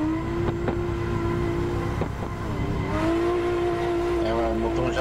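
A drift car with a JZ engine in the Assetto Corsa racing game, its engine droning steadily and rising in pitch as it revs, continuous and fairly loud.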